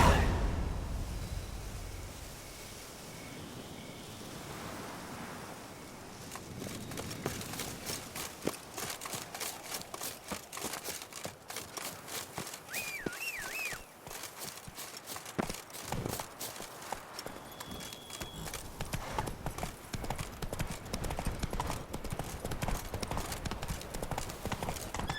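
Roach, the horse in The Witcher 3: Blood and Wine, clip-clops at a steady gallop over open ground, a close, continuous rhythmic hoofbeat with ambient wind and faint game sounds behind it.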